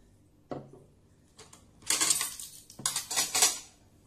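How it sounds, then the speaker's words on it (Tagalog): Rice scooped from a pot with a serving spoon, metal scrapes and a burst of clattering dishes and utensils, close and fairly quiet, ending in a few sharp clinks. "Sandok tayo ng rice."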